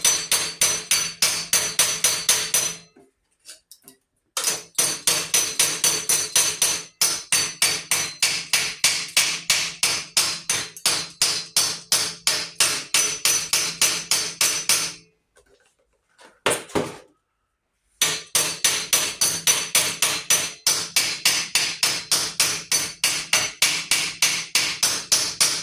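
A hammer pounds welded metal in long runs of rapid, evenly spaced loud strikes, broken by a few short silent pauses.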